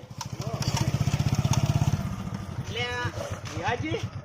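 A motorcycle engine idles and revs close by, a steady throbbing pulse for the first two seconds that then recedes under people talking nearby.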